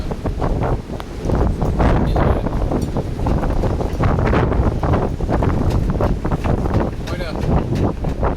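Strong wind of around 35 knots roars and buffets the microphone in heavy, continuous gusts on a rolling boat, loud and rough throughout, with some sloshing water underneath.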